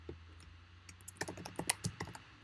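Keys tap on a computer keyboard as a password is entered, a short quick run of close, light clicks starting after a second of near silence.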